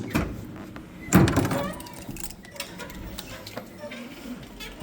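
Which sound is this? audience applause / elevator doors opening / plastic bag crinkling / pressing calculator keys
elevator doors opening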